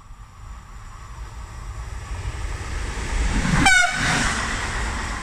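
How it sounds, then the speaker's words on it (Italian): Train passing through a station platform at Anzola Emilia, a loud rolling rumble building steadily with a sharp horn blast near the end as it goes by close up. "Treno in transito al binario 1, allontanarsi dalla linea gialla."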